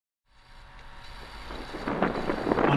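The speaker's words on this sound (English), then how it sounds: "On a windy day like today," Strong wind roars across a sailboat deck while cruising, starting after a brief silence and building steadily louder into gusty, buffeting bursts with low rumbling mic buffeting throughout.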